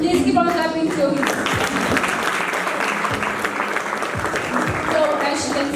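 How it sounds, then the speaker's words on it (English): Applause from the crowd at a Quality International School anniversary talk show as the chairman comes up, steady clapping under an announcer's voice and scattered cheers. "Please keep on clapping to him."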